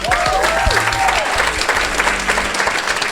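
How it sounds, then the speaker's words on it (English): A seminar audience of real estate agents gives a round of applause, broad steady clapping filling the room, with a few tonal electronic sweeps and a low hum layered over the start. "let's give them a round of applause, please"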